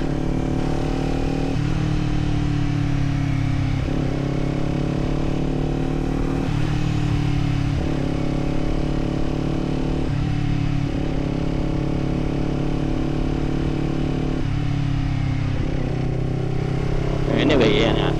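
Kawasaki Z400 motorcycle engine heard while riding in low light, a loud steady drone that steps through several gear changes, dropping and rising in pitch at intervals, with wind noise and a brief clatter near the end.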